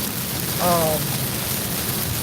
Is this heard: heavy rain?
yes